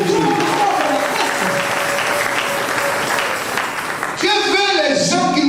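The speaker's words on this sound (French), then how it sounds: "Acclamons encore très fort le Seigneur notre Dieu." A church congregation claps and cheers loudly for the Lord in a dense, continuous burst of applause, with a voice rising over the crowd near the end.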